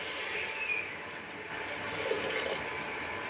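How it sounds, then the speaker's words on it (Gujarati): Water is poured into a pot of green cowpea curry cooking on the stove, a soft, steady close trickle and splash at low level with no voices. "અને હવે જો પાણી એડ કરશે"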